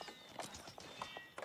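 Horse archers' horses in Age of Empires, heard as rapid, faint clip-clop hoofbeats from the game, an irregular galloping patter with no voices.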